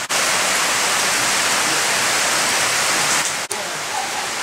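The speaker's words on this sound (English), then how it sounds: "It's raining right now. It's raining cats and dogs." Heavy rain pours down in a dense, steady hiss, loud and unbroken, with no voices.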